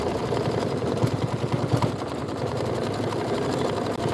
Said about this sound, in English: Next, it wants you to stitch the bunny placement line. Just go ahead and hit start.